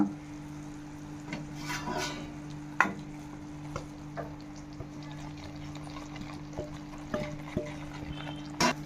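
Grated coconut is stirred and fried in thick sugar syrup with cardamom powder, giving soft scraping strokes and faint sizzling in a pan, with occasional clicks of the spoon against the metal, close and quiet.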